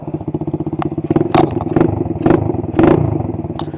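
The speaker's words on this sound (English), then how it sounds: "Let the bike warm up a little bit." A dirt bike engine warms up close by, its idle a steady loud chugging pulse punctuated by several short blips of throttle that swell and fade, with no talk over it.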